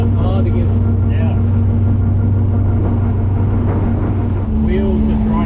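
A 1969 Camaro pro street car with a 540ci big block, its gears whining steadily in a constant engine drone while people talk over it, the tone dipping briefly near the end.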